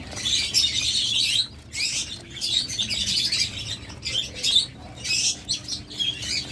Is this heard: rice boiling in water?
no